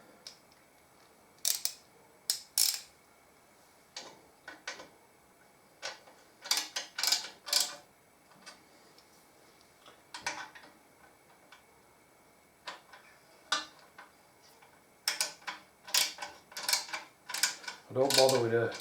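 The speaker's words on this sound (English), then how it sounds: "get the ratchet in there." A ratchet wrench tightens bolts on a Harley-Davidson Deuce trike conversion, sounding as bursts of quick, crisp clicking separated by pauses, close to the microphone in a quiet workshop.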